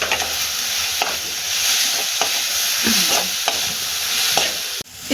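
Vegetables stirred and fried with spices including goda masala, coriander powder, turmeric and red chilli in a pan, heard as steady close sizzling with repeated scraping stir strokes roughly every half second, no talking.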